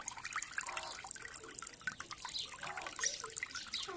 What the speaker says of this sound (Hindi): ए पानी किधर से आ रहा है